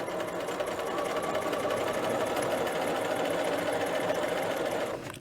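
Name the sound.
sewing machine stitching a dress collar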